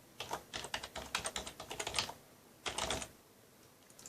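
A password typed on a computer keyboard during a Microsoft Exchange Server 2016 administrator login: a quick run of close, light key clicks, a short pause, then a final burst of keystrokes, with no talking.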